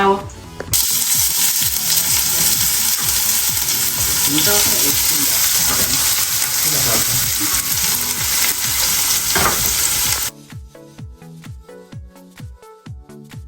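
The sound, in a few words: frying spices with vegetable masala, garam masala, red chili powder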